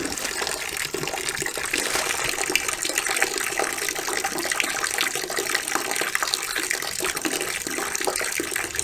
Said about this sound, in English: we have some wonderful sounds of water flowing. No worries, that is water from a garden hose